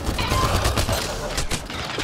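Dense, continuous gunfire in a sci-fi shooter battle from Mass Effect: Andromeda, rapid overlapping shots and bursts with shouting voices mixed in, loud and close throughout.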